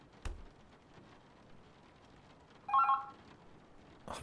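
A telephone in The Berlin Apartment video game gives one short, bright trilling ring, set against a quiet, soft background hiss with a dull thump just before it.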